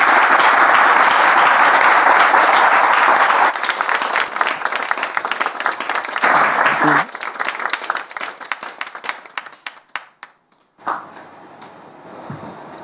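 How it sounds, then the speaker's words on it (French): A studio audience gives a talk-show guest, a husband, a welcome: loud, dense applause that holds for several seconds, then thins into scattered clapping that fades and briefly flares again near the end. "On peut l'accueillir avec des applaudissements, s'il vous plaît."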